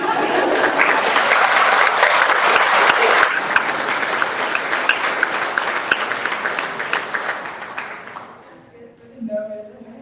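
An audience at a chamber of commerce annual awards event applauds loudly and steadily for about eight seconds, then the clapping fades as a voice begins speaking.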